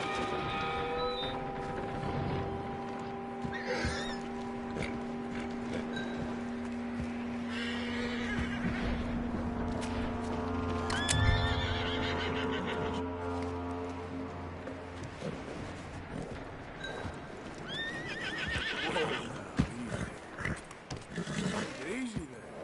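A horse whinnies and snorts in Red Dead Redemption, its calls rising over a dense game soundscape with low rumbling and scattered clatter, while voices talk intermittently throughout.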